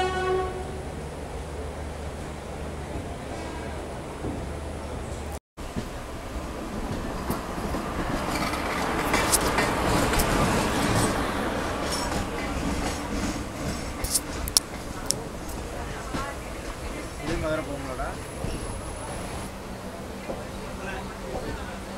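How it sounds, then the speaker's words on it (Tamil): The Sapthagiri Express pulls out of Chennai Central on its run to Tirupati, with a continuous rail rumble and clickety-clack, horn blasts and wagon noise heard up close throughout. "ஷார்ப்பாக 6:25 பிளாட்ஃபார்ம் 7 சென்னை சென்ட்ரல்லேருந்து டிபேச்சர் ஆயிடுச்சுங்க சப்தகிரி எக்ஸ்பிரஸ்"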